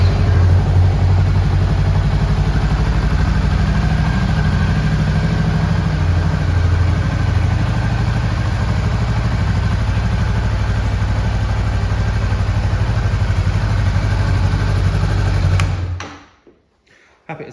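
A 2017 Honda CMX500 Rebel motorcycle with just over 3,000 miles idles at a steady low rumble close by, running evenly for about fifteen seconds before it is switched off and falls silent.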